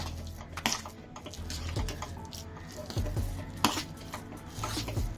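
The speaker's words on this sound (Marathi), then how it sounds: "आता सगळा चांगला असा हलवून घ्यायचा।" Rice kheer ingredients with grated coconut, turmeric, cumin powder and cardamom being stirred in a pot, giving repeated metal clinks and scraping knocks at an uneven rhythm, close and moderately loud, with no talking.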